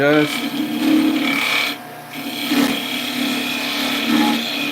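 A lathe tool lightly scrapes a patched wooden toy stem during woodturning, giving a steady, close rasping hiss that continues through the clip with a short dip partway. A voice speaks over it.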